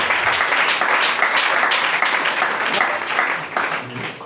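A church congregation applauding together, dense and sustained clapping filling the room throughout, with voices mixed into the noise.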